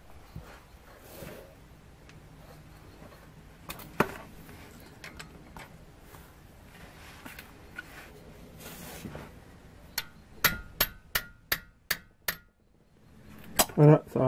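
A hammer taps a wrench to lock a plug tight on a BMW X3 E83 transfer case. Near the end comes a quick series of sharp metallic clinks, close and distinct against quiet workshop background.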